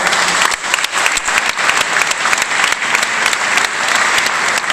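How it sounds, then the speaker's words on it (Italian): Loud, sustained applause from an audience at a heraldry society gathering, dense clapping continuing steadily throughout without a break. "Grande applauso."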